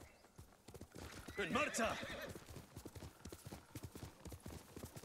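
A horse in the video game Ghost of Tsushima clip-clops along at a steady trot, hooves close and regular, with a brief whinny early on; a voice speaks over it.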